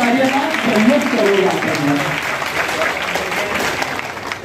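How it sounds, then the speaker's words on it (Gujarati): Loud, steady audience applause at a devotional gathering, sustained throughout with a voice talking over the clapping. "પ્રિન્સ ચૌધરી એમના માટે એક વાર જોરથી તાળીઓ"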